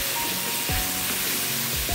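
Jackfruit with prawns sizzling and sautéing in hot oil with chili powder and turmeric, a steady loud frying hiss close by with light stirring.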